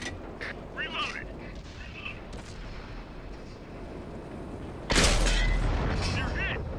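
A tank in World of Tanks is struck by a shell, producing a single loud, booming impact with a long ringing decay, preceded by quieter engine rumble and brief game voice cues.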